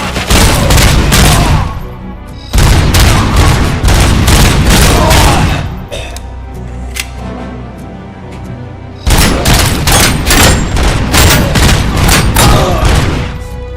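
Sustained heavy gunfire in the RoboCop video game: dense, loud bursts of rapid shots with booming impacts, pausing briefly around six seconds before resuming at full intensity.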